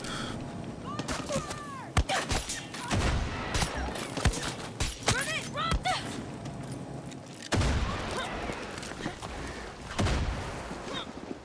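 Heavy explosions and scattered gunfire from a mortar strike in the Far Cry 6 video game, with repeated loud booms over a dense battle din and voices talking in the background.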